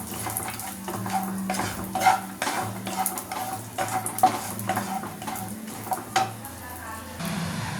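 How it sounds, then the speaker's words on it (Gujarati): Walnut pieces are dry roasted in a pan over a slow flame while a spoon stirs them, giving irregular scraping clinks and knocks against the metal with a soft background rustle. "હવે આપણા અખરોટના ટુકડા ડ્રાય રોસ્ટ થઈ ગયા છે."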